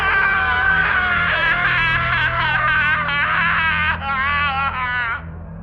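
A man screams in terror, a drawn-out, wavering, tortured cry that stays loud and close for about five seconds before breaking off abruptly, with no other voices.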